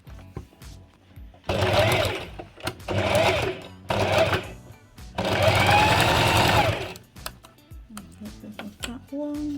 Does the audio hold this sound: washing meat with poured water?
no